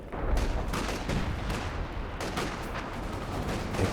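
Rapid bursts of M1919 machine gun fire mixed with thudding mortar blasts in a Company of Heroes 2 battle, continuous dense volleys without voices.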